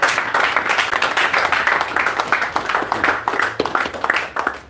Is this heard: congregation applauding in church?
yes